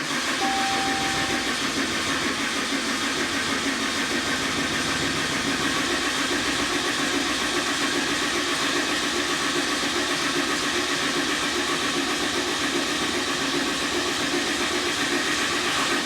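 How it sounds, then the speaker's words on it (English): A Ram 5th-gen dually pickup with a 6.7 Cummins diesel, its starter motor stuck engaged, gives a loud, steady mechanical whir with hiss that runs unbroken and close for the whole stretch, with no talk. "It tried starting, but the starter was stuck wide open"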